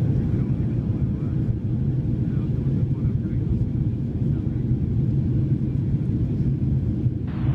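A Southwest Airlines Boeing 737-500 jet takes off from San Antonio with a steady, loud engine roar that rumbles low and constant throughout.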